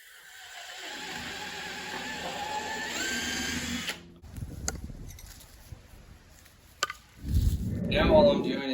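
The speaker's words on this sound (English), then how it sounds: "taking the DeWalt drill with a drill bit on the end of it" A DeWalt power drill with a bit bores holes for drawer handles, with bursts of whirring at the start and again near the end, separated by quieter handling noises.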